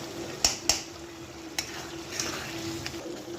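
Tomato stir-frying in oil for a katla fish curry, a soft steady sizzle with a few sharp clinks and scrapes of a spatula against the pan, close but moderately quiet.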